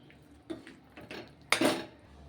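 Boiled chickpeas being stirred in a pan with a little added water while cooking chhole in a Maharashtrian home kitchen: a few scattered clinks and scrapes of a utensil against metal, the loudest toward the end, quiet and close.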